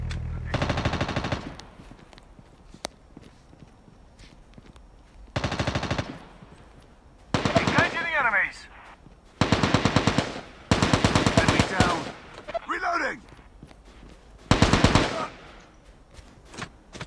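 Machine gun fire in a video game comes in about seven loud bursts of rapid automatic shots, each one to two seconds long, separated by short quiet gaps with faint game sounds underneath.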